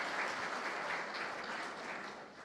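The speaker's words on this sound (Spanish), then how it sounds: "Un aplauso para Javier." Seminar audience applauding a speaker at an international traceability seminar, a full, sustained round of clapping from a sizable crowd that holds steady and eases off slightly toward the end.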